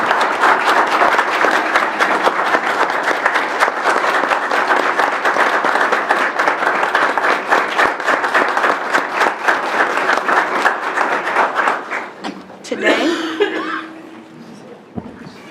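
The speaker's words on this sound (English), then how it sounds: "Mr. Thomas, would you please stand to receive a round of applause?" An audience at a meeting gives a sustained round of applause, dense clapping for about twelve seconds with a few chuckles mixed in, then fading out into a brief voice and room quiet.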